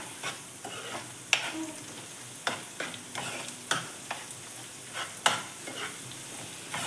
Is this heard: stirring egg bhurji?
yes